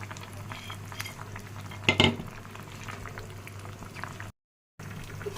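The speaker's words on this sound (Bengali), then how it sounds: "এখানে মাছ রান্না করতেছি বেগুন আলু তারপর নাপা শাক নতুন আলুর মূলা সব কিছু দিয়ে" A fish curry with eggplant, potato, napa greens and radish bubbles and simmers steadily in a pot, with a sharp utensil clank partway through and a brief dropout near the end.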